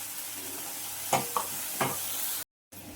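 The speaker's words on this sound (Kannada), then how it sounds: "ಒಂದು ಸಣ್ಣ ಈರುಳ್ಳಿ ಹೆಚ್ಚಿಟ್ಕೊಂಡಿದ್ದೀನಿ, ಅದನ್ನು ಹಾಕ್ಬಿಡೋಣ" Chopped small onion dropped into a hot pan for tomato chutney, giving a soft, steady sizzle with a few light stirring knocks, fairly quiet and without talk.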